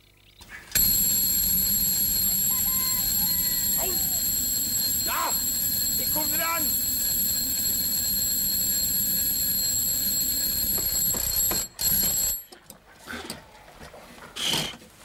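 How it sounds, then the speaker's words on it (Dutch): An alarm clock rings indoors in a 1973 television scene, a loud, continuous metallic ringing that runs for several seconds before cutting off, followed by a few soft knocks and movements. "Het was een wekker."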